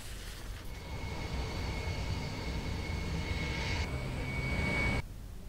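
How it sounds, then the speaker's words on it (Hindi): A four-engine Ilyushin IL-76 turbofan military transport lands at Donyi Polo Airport in Arunachal Pradesh, giving a steady, loud jet roar with a whining tone for about five seconds before it cuts off abruptly. "आज दोन्यू पोलो एयरपोर्ट पर विशाल IL-76 विमान गजराज उतरा"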